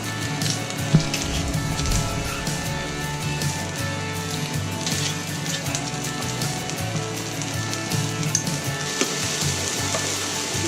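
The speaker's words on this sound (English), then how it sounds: "Start to fry it up with onion, garlic." Onion and garlic frying in a pan, a steady dense crackling sizzle throughout, loud and close.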